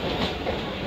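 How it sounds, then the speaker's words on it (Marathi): A new air-conditioned Mumbai local train runs along the rails, giving a steady, continuous rumble with faint clickety-clack, fairly close and with no voices over it. "न्यू AC ट्रेन चालू झालेली आहे"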